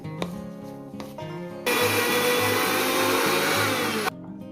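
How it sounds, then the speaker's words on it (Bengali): An electric grinder whirs loudly and steadily for about two and a half seconds as it grinds a spice paste with turmeric, then stops abruptly, leaving faint background noise. "প্রথমেই আমি মশলাটাকে বেটে নেব"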